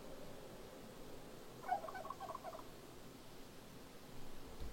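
A turkey gobbles in the Project Zomboid video game, a single short gobble rising briefly over a low, steady ambient game background.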